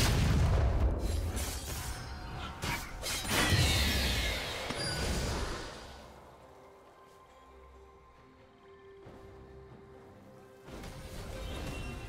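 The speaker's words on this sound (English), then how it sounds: "Red team's turret has been destroyed." A turret collapses in a League of Legends match, a heavy booming crash with rumbling debris that fades into quieter game ambience before another burst near the end.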